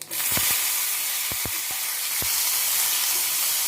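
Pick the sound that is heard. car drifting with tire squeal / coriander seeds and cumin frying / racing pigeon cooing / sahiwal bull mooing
coriander seeds and cumin frying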